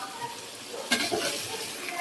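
Curry sautéing and being stirred in a pan gives a steady, fairly quiet sizzle, with one sharper scrape or clink about halfway through.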